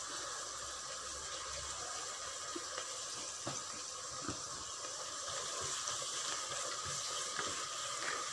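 Ingredients for Dindigul chicken biryani sautéing until golden brown in a pan, a steady close sizzle and frying crackle with occasional stirring scrapes throughout.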